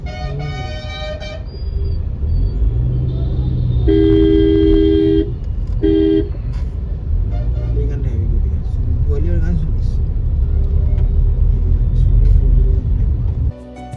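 Busy road traffic in Chandrakona Road town rumbles continuously, with engines, voices, and several car horns honking, including a couple of sustained toots.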